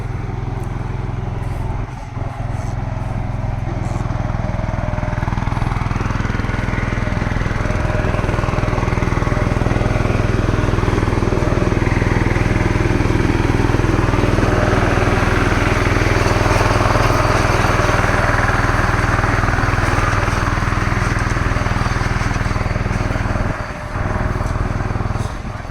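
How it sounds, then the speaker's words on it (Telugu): Small tractor running between dragon fruit rows to clear weeds on a farm, a steady close engine drone with strong low rumble that holds for the whole stretch, a brief dip near the end, with a voice faintly present under it. "ఓన్లీ కలుపు గురించే మనము చిన్న ట్రాక్టర్ యూజ్ చేసి మధ్యలో"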